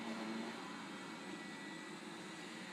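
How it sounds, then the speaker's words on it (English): A vacuum cleaner runs steadily at full power, a loud, constant whooshing roar with a faint whine, without pauses or voices. "Now it's working with maximum suction mode, so it makes the most noise possible."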